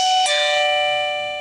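A budget smart doorbell from Temu gives a loud, close electronic ding-dong, two bright bell-like tones struck in quick succession, with the second ringing out and slowly fading over a quiet room.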